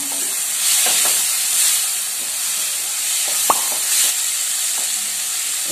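Finely chopped capsicum hits a hot pan for street-style chaat, setting off a continuous bright sizzle and hiss, with a few stirring knocks and one sharp clatter.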